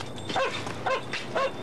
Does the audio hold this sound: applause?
no